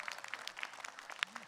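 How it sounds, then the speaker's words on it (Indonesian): A studio audience at an Islamic talk show claps in a faint, scattered burst of applause, with individual hand claps audible at a distance. "Tepuk tangan dong buat Nas."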